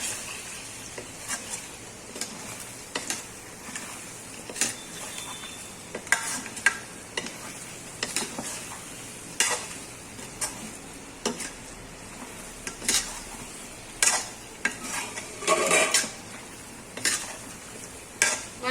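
A spoon stirs chili powder into biryani masala in a pan, giving soft repeated scrapes and light clinks against the metal over a low, steady sizzle, with no voices.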